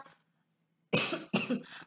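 Two sharp, loud coughs close by, the second following quickly after the first, preceded by a brief faint murmur and a moment of near silence.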